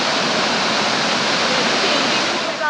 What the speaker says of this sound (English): you can swim in this wonderful waterfall